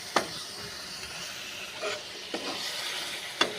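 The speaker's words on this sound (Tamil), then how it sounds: "அப்படியே நல்லா கிளறி விட்டுட்டே இருங்கப்பா." Chicken frying in a pan for a simple chicken fry, a low continuous sizzle with a few sharp, separate spatula strokes scraping through it at close range.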